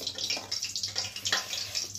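Water pours and splashes in short, uneven bursts for about two seconds, close by, with no talking.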